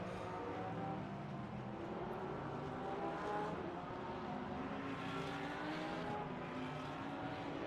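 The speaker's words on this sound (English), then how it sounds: "See them all still weaving, Davo, searching for tyre temp" Race cars in the Le Mans Ultimate sim racing game weave across a wet track to build tyre temperature, a steady blended engine drone from several cars at moderate level with no talk.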